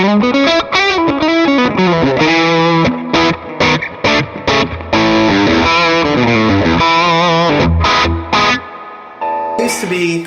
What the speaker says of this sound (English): That used to be about my crunch tone